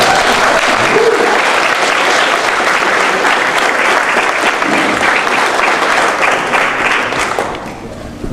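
Loud, sustained applause fills a room at a society general assembly in Halifax, a thick wash of many hands clapping with faint voices mixed in, tapering off in the final second.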